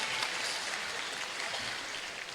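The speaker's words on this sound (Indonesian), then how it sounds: "Tepuk tangan buat kita semua." An audience at a school gathering claps steadily, a dense even wash of applause throughout.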